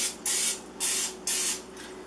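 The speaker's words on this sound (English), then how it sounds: "I'm just going to spray that. Some non-stick cooking spray." Non-stick cooking spray from an aerosol can misted into a loaf pan in a home kitchen: three separate sharp hissing bursts, each about a quarter second, close up over a faint hum.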